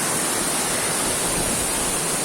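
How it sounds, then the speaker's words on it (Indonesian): Small waterfall at Air Terjun Pucung on a hillside, heard as a steady, dense rush of falling water that stays even and close throughout, with no voices. "Memang air terjun ini tidak begitu besar, tapi cukup membuat bahagia."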